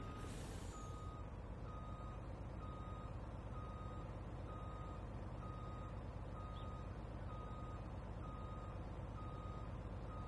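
A heavy rescue truck backing down a snowy road, its backup alarm beeping in a steady, evenly spaced rhythm over a constant loud diesel engine rumble, with a brief air hiss at the start.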